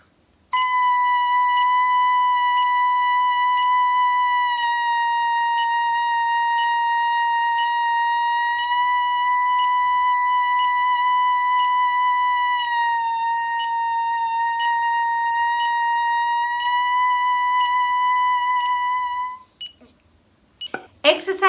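Oboe reed simulator played as an ambulance-siren exercise: a steady, loud reedy tone with a strong harmonic stack alternating between two nearby pitches for about 20 seconds, ending with a few brief clicks and noises.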